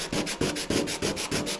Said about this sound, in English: Just keep sanding and keep feeling it.